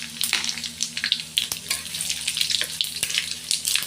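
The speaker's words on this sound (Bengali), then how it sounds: "তিনটে তেজপাতা আর একটা শুকনো লঙ্কা সঙ্গে গোটা জিরে ফোড়ন দিলাম" Bay leaves, a dried chili and whole cumin crackle and spit in hot oil in a kadai, making a busy, close, uneven sizzle with sharp pops throughout.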